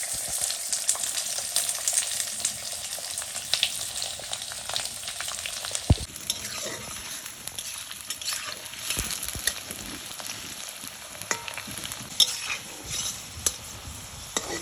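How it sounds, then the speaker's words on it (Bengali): Steady crackling sizzle of potatoes frying in hot oil, close and continuous, with occasional stirring clatter and no voices. "তেল গরম হয়ে গেছে আমি আলু করে আগে দিয়ে ভেজে নিচ্ছি"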